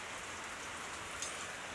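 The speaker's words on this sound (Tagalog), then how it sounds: "grabe ang ulan." Heavy rain pouring steadily on surfaces, a dense continuous hiss of close drops, fairly quiet overall with no voices.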